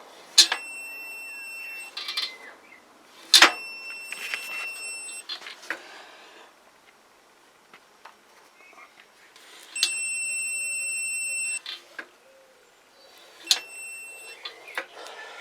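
Multimeter set to continuity, leads on the side stand switch of a Tamoretti Retro 50 scooter, giving bright electronic beeps: about four short bursts and one sustained two-second tone as the stand is worked, with handling noise between.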